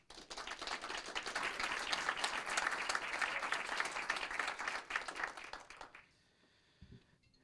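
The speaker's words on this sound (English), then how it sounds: "please give a big round of applause for Deputy of the second quarter, Deputy Abel Juarez." A city council meeting audience gives a round of applause, loud and steady crowd clapping for about six seconds that cuts off abruptly, followed by quiet room tone and a brief faint sound.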